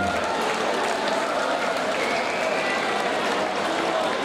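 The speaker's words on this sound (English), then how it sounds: "Let's have a round of applause for Aden and for Liam." Crowd at a boxing event applauding two boxers in the ring, a steady, dense wash of clapping and crowd noise holding at even loudness throughout, fairly near, with faint voices mixed in.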